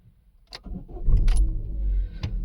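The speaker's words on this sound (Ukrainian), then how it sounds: "Давайте спробуємо завести автомобіль, послухати роботу двигуна" A 2016 Chevrolet Cruze 1.6-litre petrol engine cranks after a click, catches and settles into a steady low idle rumble, close by.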